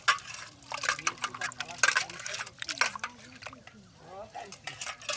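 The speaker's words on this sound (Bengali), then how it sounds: "মাছগুলো কিন্তু ধোয়া হচ্ছে" Kuchia fish are washed by hand in water in a tribal village in Bangladesh, with irregular splashing and sloshing close by under a person talking.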